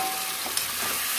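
Water poured into a hot pan of sizzling chicken masala for egg chicken biryani, a loud, dense hiss and bubbling sizzle filling the moment with no talk.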